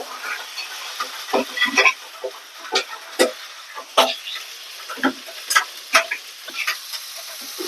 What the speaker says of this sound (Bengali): এটাকে ভালোভাবে নেড়ে চেড়ে মশলাগুলাকে, এবং এটার একটা যে গন্ধ আছে গন্ধটাকে উঠাই যাওয়ার পরে রেডি হবে।